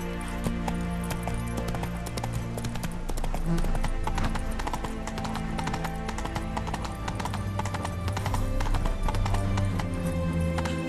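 Horse hooves in a video game, a dense, loud clip-clop of galloping hooves that continues steadily throughout, with faint neighs mixed in.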